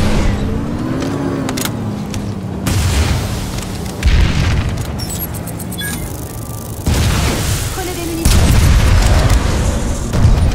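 Heavy explosions from a destroyed generator in the PlanetSide 2 video game: loud booming blasts that hit at several points over a dense, continuous roar of battle noise.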